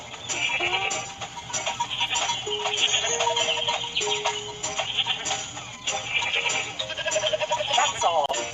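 Goats bleat in a kids' farm video game, with several cartoonish tonal bleats over cheerful game music and chiming effects, loud and busy throughout.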